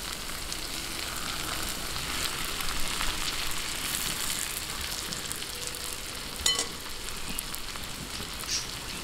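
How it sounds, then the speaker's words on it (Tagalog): Pork belly frying in a pan with sautéed garlic and onion for Filipino pork hamonado, a steady, even crackling sizzle throughout with a couple of faint clicks. "Ilagay na po natin itong ating pork belly"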